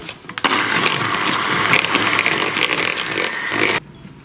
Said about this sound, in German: Als erstes schlage ich Butter und Frischkäse zusammen auf.